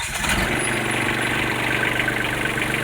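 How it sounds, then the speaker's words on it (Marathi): A farm tractor engine runs steadily at close range, a continuous low rumbling drone that holds an even level throughout with no speech over it. "आमचा आता ट्रॅक्टर पुढे घेतोय"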